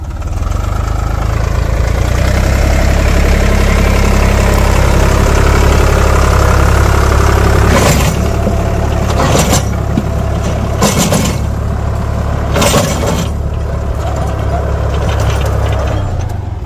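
Maschio rotavator driven by a tractor in low second gear at 540 RPM, with wood fed into it: a loud, steady engine drone, then bursts of crunching and cracking clatter in the later half as the blades chew through the material.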